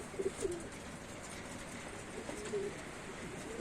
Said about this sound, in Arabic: انا اوريكم الحمام